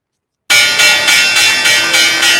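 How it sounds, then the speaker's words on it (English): A stock exchange closing bell rings loud and close in a rapid, evenly repeating metallic clang that starts abruptly and continues without pause, with no voices over it. "that's the closing bell"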